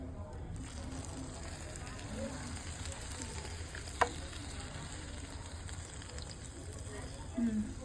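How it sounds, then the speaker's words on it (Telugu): Gavvalu, sweet shells, deep-fry in oil with a constant, dense crackling sizzle, close and even, a single sharp tap midway and someone speaking lightly over it. "గవ్వలు అయితే డీప్ ఫ్రై చేసేసుకుంటున్నాను"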